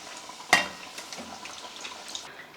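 Kachori dropped into hot oil land with a sharp splash, then settle into a soft, steady sizzle of deep-frying.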